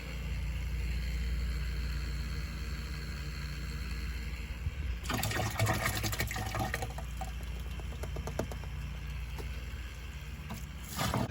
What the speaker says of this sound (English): then we'll fill our sprayer back up to 1 gallon